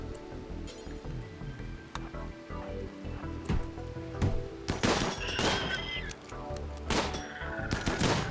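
Gunfire in the RimWorld colony game, a series of sharp shots and short bursts popping over a busy game soundscape, some louder reports clustered near the middle and end.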